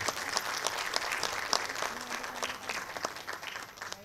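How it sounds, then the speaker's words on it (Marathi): An audience at a Veer Savarkar centenary celebration applauds Shweta Parulkar with steady, dense clapping from many hands, sustained for several seconds and easing off slightly at the end, heard across a large hall. "जरा जोरदार टाळ्या श्वेताजींसाठी."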